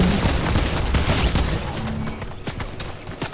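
Rapid bursts of gunfire from other players in a Fortnite match crackle loudly and continuously, with dense overlapping shots and booms throughout.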